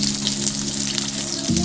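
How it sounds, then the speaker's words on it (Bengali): A large chopped onion fries in hot oil with green chillies in a pan, giving a steady, dense sizzle with a low hum underneath and no voices. "পেঁয়াজটাকে আমি হালকা বাদামি করে ভেজে নেব।"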